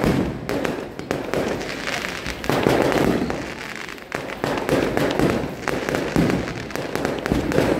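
Fireworks burst and crackle almost continuously at a night church feast in Chempanthotty, Kannur district, Kerala, a loud, dense barrage of rapid pops and booms with faint voices in the background.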